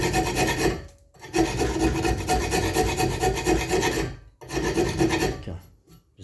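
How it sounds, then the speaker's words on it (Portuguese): A half-round file rasps along a knife blade held near, working toward the handle in three long, even strokes separated by brief pauses, with a harsh, gritty scrape on each pass. "Eu vou pegar minha lima meia cana, encaixar no buraco e comer agora na direção do cabo"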